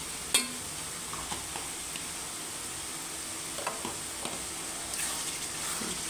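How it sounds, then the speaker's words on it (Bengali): Ground coriander and cumin are stirred in a hot frying pan, a soft continuous sizzle broken by a few scraping clinks of the spoon against the pan. "তারপর একটু নাড়া দিয়ে মিক্স করা হচ্ছে।"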